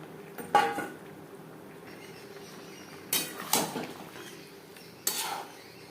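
Bhetki fish bones being stirred into gravy in a pan, heard as a few scattered utensil scrapes and clinks against the cookware, with quiet gaps between the bursts.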